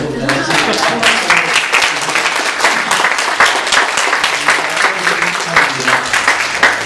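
A church congregation claps during a Sunday service, a loud, sustained burst of applause with dense, uneven hand claps from many people filling the room.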